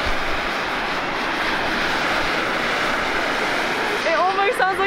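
A hot spring steam vent in Japan roars with a steady, loud, broadband rush like a jet taking off, continuous throughout, with people talking over it near the end.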